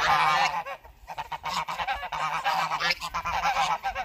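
Several geese honk loudly and continuously, close by, their calls overlapping in a noisy chorus.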